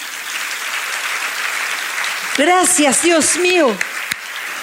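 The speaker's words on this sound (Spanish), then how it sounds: "Un aplauso para ellos." A church congregation bursts into loud, sustained applause that fills the room, while someone speaks over the clapping near the middle.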